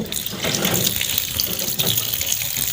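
Cold tap water runs steadily over boiled spaghetti in a kitchen, a continuous loud splashing gush that holds the same level throughout, with no voices.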